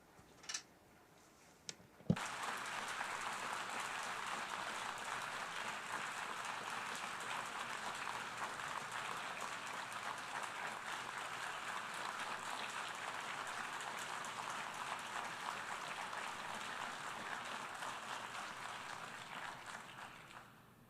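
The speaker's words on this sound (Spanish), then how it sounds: "Wow, sustained applause." Sustained applause from the audience at the UN General Assembly for Israel's prime minister, a dense steady roar of clapping that swells in after a brief sharp knock and holds loud and unbroken for about eighteen seconds.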